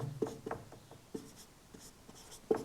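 Numbers for a maths problem written on a board: a series of short, sharp scratchy strokes and taps in irregular bursts, close and distinct, with no voices.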